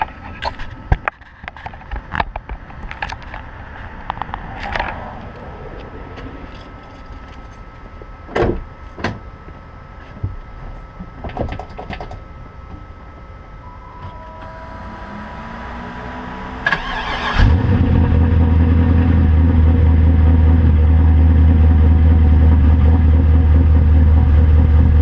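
A car engine turns over and catches about two-thirds of the way in, then runs at a steady, loud idle to the end, after scattered clicks, knocks and handling noises.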